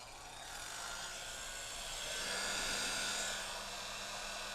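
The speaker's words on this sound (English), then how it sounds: "It's a hair dryer." An electric hair dryer made by Racine Universal Motors gives a steady whirring hum for several seconds, swelling slightly louder midway before easing back, with no voices present.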